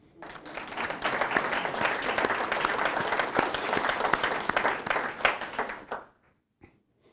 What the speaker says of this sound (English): is worth a round of applause